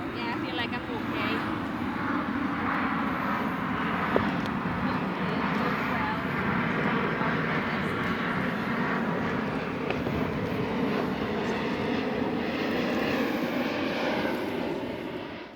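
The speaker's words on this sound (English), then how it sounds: "Sorry about the aeroplane noise there." A propeller aircraft drones steadily overhead, a constant broad engine rumble filling the whole stretch at an even level, heard outdoors at a horse-riding session.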